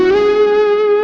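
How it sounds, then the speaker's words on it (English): Overdriven electric guitar playing one sustained, fuzzy, saturated note with a dense stack of harmonics, loud and steady throughout with a touch of reverb, no voices. "You get a fuzzy, saturated, very familiar sound"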